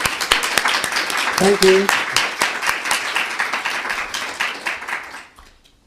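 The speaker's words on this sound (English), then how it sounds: "So if we could all give a great kind of warm kind of clap to David and welcome him here today" Audience applause welcoming a lecturer at a museum talk, a roomful of clapping with distinct sharp claps, steady then tapering off and fading to quiet, with a brief voice speaking over it partway through.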